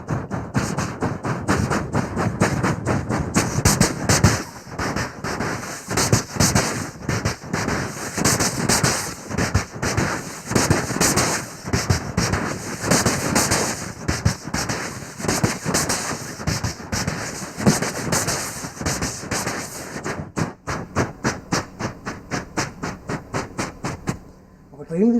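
A performer imitates with his voice a train crossing a road underbridge overhead, a fast rhythmic run of loud clacking bursts lasting over twenty seconds that speeds up and thins out near the end.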